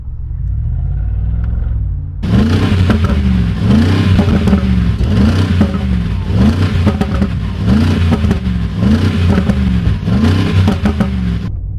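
A car engine idles low, then revs hard in a series of rhythmic surges, loud and close, with a rumbling exhaust.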